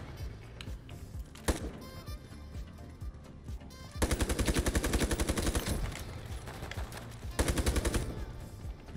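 Gunfire in an online shooter game with an M4 rifle, loud bursts of rapid automatic fire in repeated volleys, including a long sustained stretch, with no talk.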